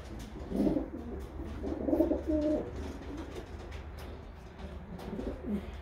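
Pigeons coo softly nearby in low, throaty bursts, a few rolling calls spaced apart over a quiet background hum.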